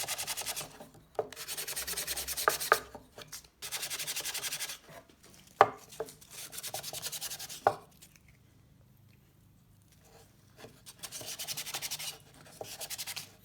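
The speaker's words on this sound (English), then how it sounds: "try to sand down all your rough edges" Sandpaper rubbing the rough, jagged edges of a wood block, several bursts of close raspy scraping strokes separated by short pauses and occasional knocks.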